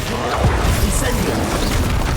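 An Incendio fire spell cast in Hogwarts Legacy bursts out as a dense, loud whoosh of roaring flame that fills the whole moment without a break.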